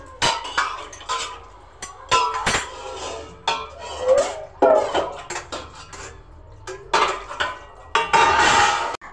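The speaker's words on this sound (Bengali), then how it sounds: "খাওয়া দাওয়া সেরে আমি বাসন ধুতে বসে গিয়েছি" Dishes are washed after a meal, with close clattering of plates, pots and cutlery in irregular bursts, clinks and knocks separated by short pauses, and no talking.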